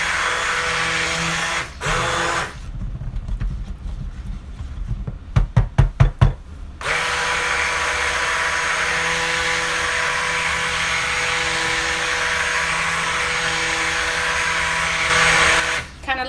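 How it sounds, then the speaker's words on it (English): A stick blender runs continuously in soap batter, mixing it toward trace, and gives a steady motor whine for most of the stretch. It is preceded by knocking and a quick series of sharp taps, and a voice talks briefly near the start. "we're going to go ahead and just stick blend until we come to trace"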